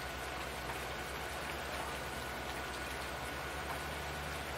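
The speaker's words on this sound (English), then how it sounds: "We're throwing all caution to the wind and planting in the rain because we can." Heavy early-summer downpour on a farm in the Susquehanna River Valley, a steady dense hiss of rain pattering on surfaces with a low rumble beneath, continuous and close, no voices.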